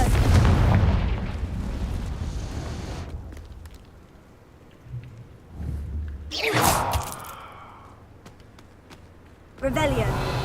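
A Confringo fire spell bursts in the video game Hogwarts Legacy, with rumbling blasts and a sharp burst midway, heard alongside in-game voices.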